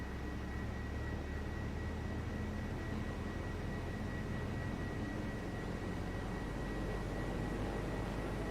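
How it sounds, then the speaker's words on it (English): A propeller aircraft engine drones steadily and loudly from inside the cabin, a constant rumbling hum with no clear rise or pause, no talk. "clear prop, mixture to rich, let's get that throttle up a bit"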